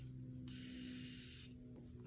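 A pointed flat makeup brush gets one close, steady spray burst lasting about a second, a bright airy hiss that cuts in and stops abruptly over a quiet background.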